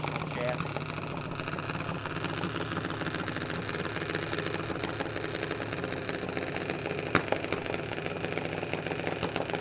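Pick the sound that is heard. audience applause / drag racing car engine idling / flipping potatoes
drag racing car engine idling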